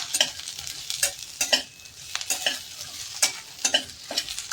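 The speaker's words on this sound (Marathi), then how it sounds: "लसूण आणि मिरच्या छान असं ह्याला आपल्याला परतून घ्यायचं" Garlic, grated coconut and green chillies sautéing in a pan, with a steady sizzle broken by repeated scraping stirs of a spoon, close and fairly loud, with no talking.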